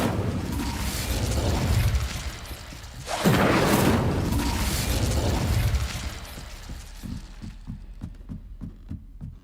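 Incendio fire spell cast in Hogwarts Legacy, a loud whooshing fiery burst that swells and roars for a few seconds, then fades into a run of soft rhythmic thumps.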